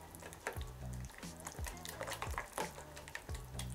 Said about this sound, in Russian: Перемешиваем это все до полной однородности